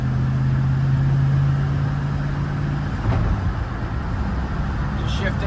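A 1950 Fargo truck cruises the highway in third gear at about 40 mph, its engine a steady, loud low drone with a humming tone that drops away near the end.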